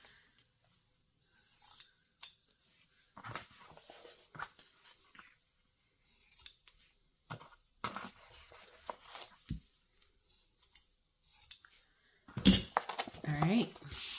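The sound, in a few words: scissors mitering off corners of soft book cover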